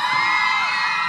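Large group of Girl Scouts at a holiday lights parade scream and cheer together, a loud continuous wall of high-pitched shouting throughout.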